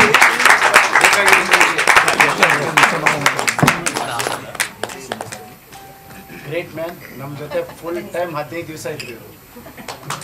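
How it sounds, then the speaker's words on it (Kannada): Loud applause at a Kannada film press meet, strong clapping at first that thins out into scattered claps while people talk over it. "ಜೋರಾದ ಚಪ್ಪಾಳೆ"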